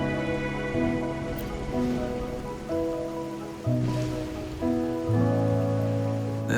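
Steady rain in the video game Wuthering Waves, a constant hiss of drops over sustained, shifting music chords that dominate the mix.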